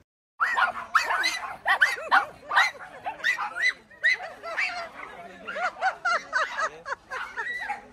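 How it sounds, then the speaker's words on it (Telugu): Several small puppies yip and bark in rapid, overlapping bursts at a big dog, their high-pitched barks and whimpers coming close and loud in a lively, excited chatter. "ఆ పెద్ద కుక్కను చూసి ఈ చిన్న కుక్క పిల్లలన్నీ దాదాగిరి చేస్తున్నాయి"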